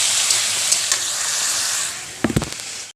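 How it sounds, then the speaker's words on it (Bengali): Chili and turmeric frying in a pan of fish curry with ridged gourd, a steady sizzle followed near the end by a short burst of scraping stirring sounds close by. "এবারে এর মধ্যে আমি দিয়ে দেবো কিছুটা পরিমাণ লঙ্কা পরিমাণ হলুদ দিয়ে এটা ভালো করে নাড়তে থাকবে"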